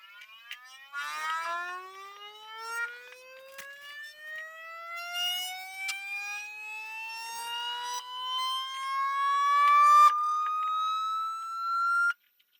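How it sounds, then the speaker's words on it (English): An Aliencell X1 enclosed laser calibrating gives a rising, jet-engine-like whir that climbs steadily in pitch over several seconds and cuts off abruptly, with faint clicks along the way. "It has the sound similar to something like a jet engine getting up to speed"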